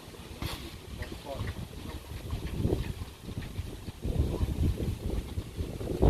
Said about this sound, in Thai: ลมพี่น้องเอ้ยแรง